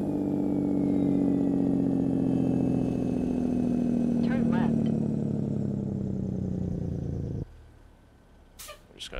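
Kenworth W900 truck with an electronic engine heard from outside, a loud low droning rumble whose pitch slowly falls before cutting off abruptly, followed by quiet with a few faint clicks.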